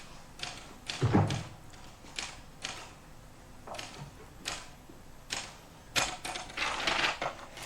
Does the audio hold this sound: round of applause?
no